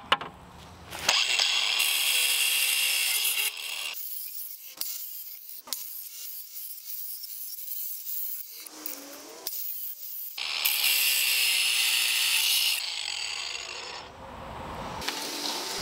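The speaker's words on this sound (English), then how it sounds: "I'm gonna use a cutoff wheel on my grinder and some eye protection." An angle grinder with a cutoff wheel slicing through wire for a sculpture armature in a workshop: two long, loud, steady high-pitched grinding passes with quieter handling and brief knocks between them.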